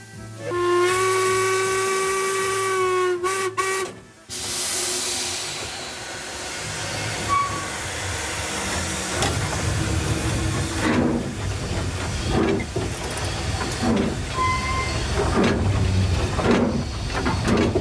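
A steam whistle blows loudly, then a steam locomotive on the Foxfield Railway works hard up a gradient with rhythmic chuffing and hissing steam, close and continuous.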